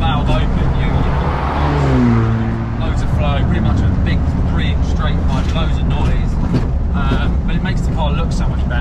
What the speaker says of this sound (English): Loads of flow, pretty much a big 3-inch straight pipe, loads of noise.